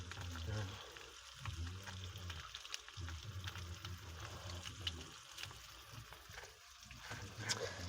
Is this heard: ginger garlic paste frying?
yes